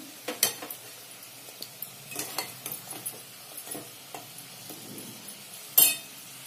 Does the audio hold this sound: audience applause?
no